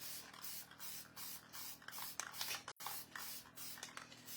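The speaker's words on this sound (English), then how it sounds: "I chose to adhere this with the spray adhesive." Spray adhesive hissing from an aerosol can in a series of short bursts held over a trash can, close and steady with brief pauses, while adhering material for a stained glass church craft.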